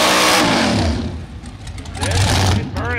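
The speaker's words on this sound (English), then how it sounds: "Burnouts are looking real good." A drag-racing street car with a pulley-driven blower at about 12 PSI does a burnout at the strip, engine roaring loud and close with a harsh, sustained revving drone, surging again near the end, as people talk over it.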